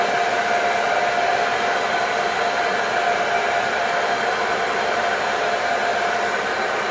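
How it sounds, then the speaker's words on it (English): A heat gun blowing hot air at a Kydex sheet to soften it, a loud, steady, unbroken fan-and-air hiss, close up with no speech. "But if you use a heat gun"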